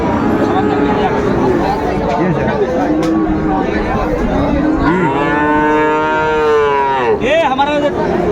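Young Friesian and crossbred bull calves moo loudly and repeatedly at Raniganj cattle market, long drawn-out calls overlapping one another, amid a busy crowd murmur of chatter and voices.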